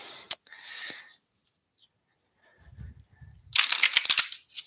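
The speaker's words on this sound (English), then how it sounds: "So you can hear the shuffling, it's authentic." Quick papery riffles and flicks of tarot cards being shuffled, in two bursts separated by a quiet pause with a soft low rumble, close and moderately loud.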